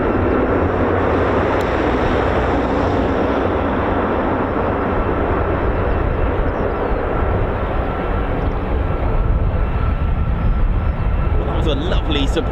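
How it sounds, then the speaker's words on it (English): A Luftwaffe C-130 military transport aircraft roars loudly and steadily at an air base, a broad continuous engine drone that holds for the full length with no letup. "A lovely surprise, a Luftwaffe C-130"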